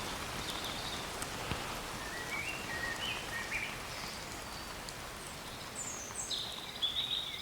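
Steady outdoor rain hiss, easing as the clouds part, with a few faint bird chirps rising toward the end; no voices.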